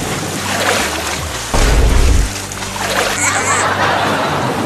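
Water splashes around a swimmer outdoors, with a loud burst of churning splash in the middle over a background of waves and voices.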